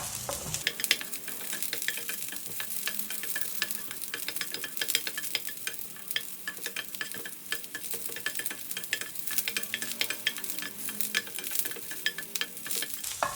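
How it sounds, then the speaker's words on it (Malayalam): Okra (ladies finger) sautéing in a pan over a medium flame, a continuous close sizzle with fine crackling and occasional stirring scrapes, steady and even for the whole stretch with no voices. "മീഡിയം ഫ്ലെയിമിൽ വെച്ചിട്ട് നമുക്ക് നന്നായിട്ട് വെണ്ടയ്ക്ക വഴറ്റിയെടുക്കാം"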